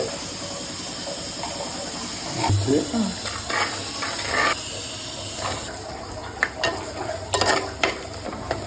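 Onions sizzle steadily in sesame oil for a mutton curry while a utensil stirs and scrapes the pan in bursts, with a constant hiss of frying close by.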